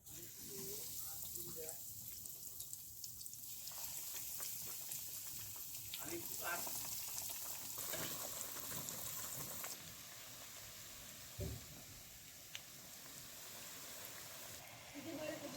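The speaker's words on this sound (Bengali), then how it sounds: "এবারে ভেজে নিচ্ছি" Vegetarian jackfruit cutlets fry in hot oil, giving a steady, fairly quiet sizzle and bubbling throughout, with a few brief clatters and a voice talking over it.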